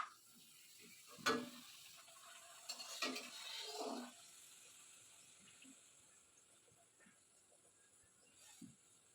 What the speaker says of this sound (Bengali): আর এদিকে তেল গরম হয়ে গেছে, তো আমি এক এক করে লুচিগুলো ভেজে নিই।